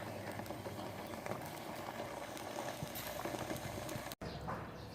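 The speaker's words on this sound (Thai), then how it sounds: "รอให้เดือดน้ำเดือดก่อนค่ะ" A pot of pork curry boiling, a steady dense bubbling hiss that continues unbroken throughout, with a brief dropout near the end.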